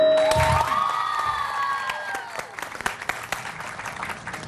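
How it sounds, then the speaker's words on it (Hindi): Studio audience applause on a Pakistani morning TV show, a sustained crowd clapping after a song, with a lingering musical tone at the start before the clapping thins toward the end. "तालियां जी"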